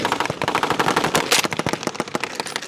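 Rapid bursts of blank gunfire at a World War II reenactment in Zephyr Hills, Florida, a dense machine-gun rattle mixed with single shots, loud and close.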